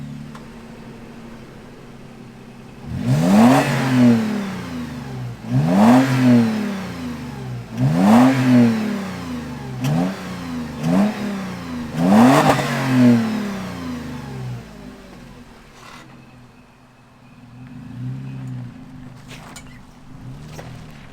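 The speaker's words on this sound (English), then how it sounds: "Let's fire this thing up and hear the mellow yellow tunes out of" A 2022 Toyota 4Runner TRD Pro revs through a TRD catback exhaust, close by and loud: several rising and falling throttle blips in a row, then the engine settles back to a low idle.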